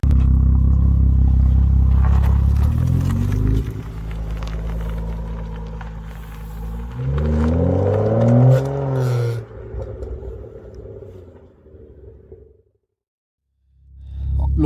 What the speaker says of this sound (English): Let's start off with the 135 and we'll jump in the Golf R after for a drive.